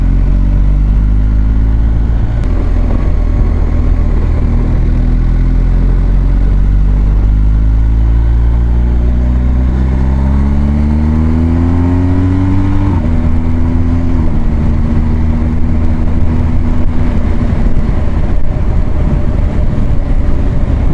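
BMW R1250 GS HP motorcycle engine under way, a loud continuous drone with rising and falling pitch as it accelerates and shifts, with steady wind and road noise throughout and no talk.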